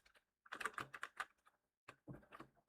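Close, steady typing on a computer keyboard while code is entered, with bursts of rapid clacking keystrokes, a short pause, then another quick run of keys.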